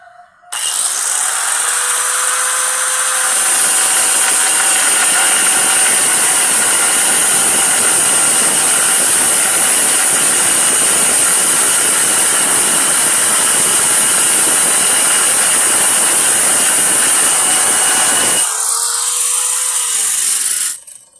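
A hand-held angle grinder spins up and runs continuously for about eighteen seconds with a loud, steady, high-pitched whine and hiss, then winds down and stops.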